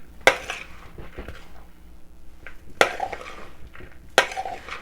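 A millet tabouli salad with parsley is mixed in a bowl, with close scraping and stirring and three sharp utensil clinks against the dish, separated by quieter stretches.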